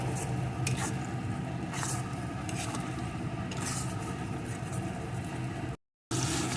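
Chicken masala with cashew paste being stirred and fried in a pan, a steady close scraping and squishing over a constant sizzle, with one short gap near the end.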